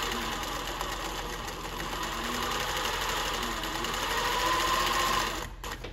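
A Consew industrial sewing machine running at speed, a steady, close mechanical whir and rapid needle chatter that holds for about five seconds before abruptly winding down.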